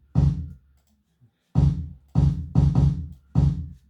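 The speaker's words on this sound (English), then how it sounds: "and they sound like this together." Layered kick drums from one kit and a standard FL Studio kit hit five times in a simple pattern, punchy and booming with short decays and gaps between hits.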